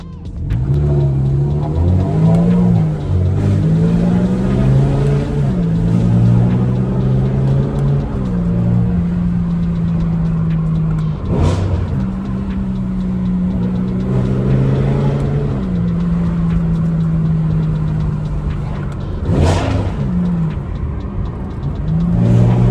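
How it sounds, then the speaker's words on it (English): V10-swapped BMW E92 M3 pulling away from a workshop, a loud sustained engine drone rising and falling through gear changes, with sharp rev spikes along the way. "let's get this car out of my workshop and on its way to Zach's."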